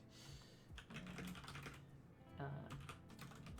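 Quick bursts of typing on a computer keyboard, close and fairly quiet, with irregular clusters of key clicks and short pauses.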